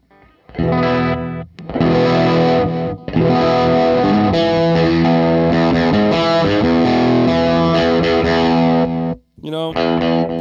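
A heavily distorted electric guitar plays chords and sustained notes, loud and saturated, with a brief pause near the end before a final strum.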